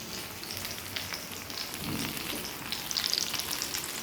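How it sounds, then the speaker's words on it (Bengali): Rotis crackle in an Indian kadai over the fire, a low steady sizzle with soft scraping near the middle and a few sharp pops toward the end, close and without talk. "এই দেখো কড়াইতে বসিয়েছি প্রচুর রুটি"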